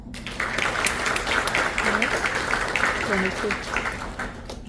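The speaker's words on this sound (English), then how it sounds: "Please join me in a round of applause for the distinguished honor graduates" Steady applause from an army graduation audience honoring distinguished honor graduates, a dense continuous wash of clapping throughout with faint voices mixed in.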